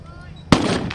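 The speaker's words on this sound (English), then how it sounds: "And there's the first artillery shell." An artillery shell fires during a military vehicle battle display, a sudden loud boom midway that rolls into a sustained roaring rumble, with another burst near the end.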